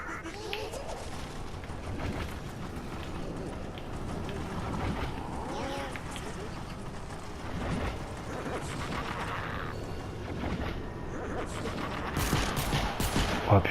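Rapid gunfire shooting zombies in Fortnite Save the World, bursts of repeated shots mixed with game effects and a voice speaking French over the action throughout.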